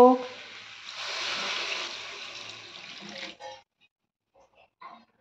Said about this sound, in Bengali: এবার এর মধ্যে আমি পরিমাণ মতো জল দিয়ে দেব।